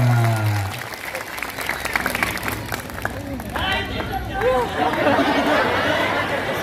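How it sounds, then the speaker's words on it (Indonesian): Applause at a mosque sermon by a preacher, clapping for two people after a demonstration, with crowd chatter and voices running through it and rising toward the end. "tepuk tangan untuk mereka berdua"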